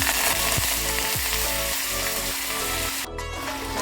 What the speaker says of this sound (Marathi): तेल गरम झाले त्याच्यात मोहरी घालून घेऊया त्यातून हिंग घालूया कढीपत्ता